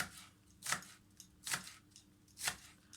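A knife finely chops green onion on a board: three distinct sharp chops spaced about a second apart, quiet and close, with no talk.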